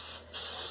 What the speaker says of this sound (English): spray that down